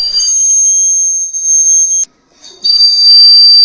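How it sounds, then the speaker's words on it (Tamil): A dry clay bird whistle is blown in long, shrill, steady high tones, one sustained blast, a brief gap, then another, loud and close with no talk. "இது வந்து மண்ணால் செய்யப்பட்ட குருவி. இது வந்து இவன் ஊதி காட்டுவான்."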